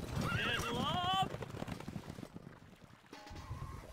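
Horses whinny loudly in the medieval strategy game Stronghold HD, a wavering neigh up front followed by busy clattering hooves and game noise, with voiced unit chatter mixed in.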